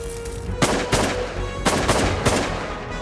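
Shotguns fire at waterfowl during a Saskatchewan hunt: a rapid volley of about six loud, close blasts in quick succession over about three seconds, some shots overlapping from several guns.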